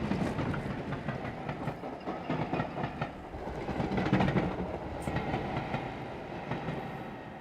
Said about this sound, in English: I gotta wait for this train to go by.